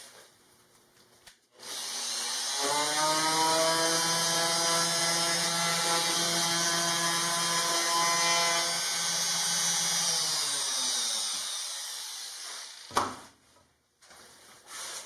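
A power tool whirs up and runs steadily for about ten seconds as it rounds the corners of wooden handles, then winds down, ending with a short sharp knock.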